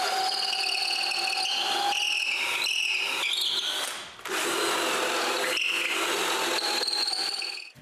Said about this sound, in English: using my first hole as a guide, I drill another hole into the top